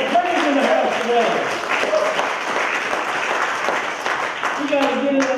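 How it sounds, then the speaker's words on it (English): Church congregation clapping in praise during a service, a dense wash of hand claps mixed with voices and what sounds like organ or music tones underneath, loud and continuous throughout. "Give him a hand clap of praise in the house today."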